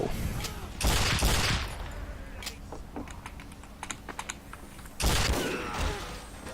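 Sniper rifle shots in the game Team Fortress 2, two loud broadband bursts roughly four seconds apart, with quieter clicking and game noises in between.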